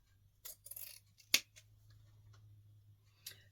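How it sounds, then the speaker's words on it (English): Scissors snip through the end of a striped green ribbon while a bow is being made: a few light rustles, then one sharp close cut, with a faint later click in a quiet room. "Let me just cut that end."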